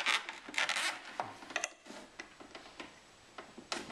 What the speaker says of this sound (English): we're going to try and use a trim tool and see how easy it is